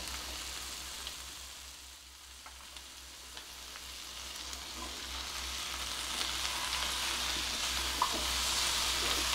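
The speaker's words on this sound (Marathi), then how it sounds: "आता हे जे लाल भोपळ्याचे तुकडे आहेत ते घालते मी." Red pumpkin pieces hit sautéed onion in a hot pan, giving a steady close sizzle and crackle that grows slightly louder toward the end, with no voices over it.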